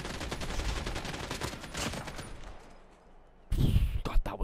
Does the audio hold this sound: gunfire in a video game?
yes